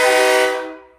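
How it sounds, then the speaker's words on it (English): A loud multi-tone train horn mounted on a Peterbilt motorhome gives one sustained chord-like blast that fades out over about a second. "hit the train horn"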